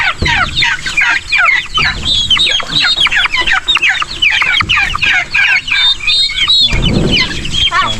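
A flock of chickens clucks busily and continuously, many birds close by with overlapping calls, plus a low scuffle near the end. Chickens and turkeys fighting on a farm.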